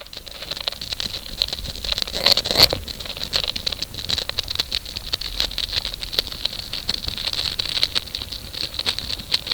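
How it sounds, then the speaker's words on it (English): Dense, close-miked crackling and tiny scratching patters of ants eating sugar, a busy granular texture, with a few sharper clicks and a faint high hiss. "it is of ants eating sugar"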